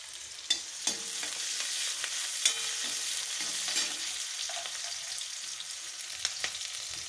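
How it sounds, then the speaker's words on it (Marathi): Steady frying sizzle of a spice mixture in a pan, with a few sharp clicks and scrapes of a spoon stirring against the metal, heard close and without voices. "नंतर जरासं याला फ्राय करून घ्यायचं आहे."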